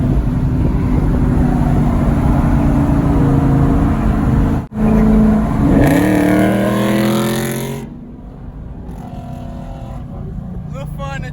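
A straight-piped Mopar Dodge Challenger engine revs hard and loud, rising through the revs in a sharp climb before dropping back to a rumbling idle, with people talking over it.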